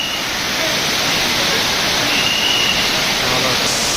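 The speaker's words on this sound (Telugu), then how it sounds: "మనకి ఇక్కడ స్టార్టింగ్ నుండే అక్కడ వాటర్ ఫాల్ సౌండ్ వినిపిస్తుంది అనమాట." A waterfall roars as a dense, steady wash of rushing water, loud and close, with no break over the few seconds.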